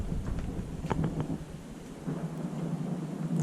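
Low thunder rumbles through a spring storm about a mile away, a steady deep roll with a few sharper cracks early on, heard alongside the patter of light rain.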